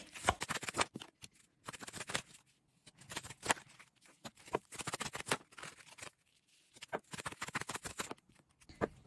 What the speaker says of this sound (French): on mélange les cartes